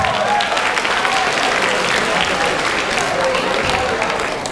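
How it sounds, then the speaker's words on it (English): Audience applause after a concert band and percussion drumline performance, dense steady clapping from a crowd throughout, with some voices mixed in. "Come on, with applause, guys."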